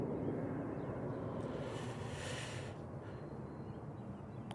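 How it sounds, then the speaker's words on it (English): At Manchester Airport a TUI Boeing 737 MAX 8 jet departs for Malaga. It makes a distant, muffled rumble of engine roar that swells faintly in the middle and then eases, heard alone without voices. "We've got the TUI 737 MAX 8 off to Malaga."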